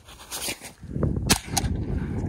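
A cheap plastic toy cap gun fires a few sharp cracks in single shots, spaced unevenly over a low background rumble, with no talking.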